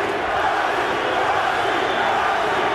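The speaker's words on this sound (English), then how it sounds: "English crowd chanting Nazi," Large English boxing crowd at a professional fight produces a loud, steady roar of massed voices, a continuous chanting din with no breaks.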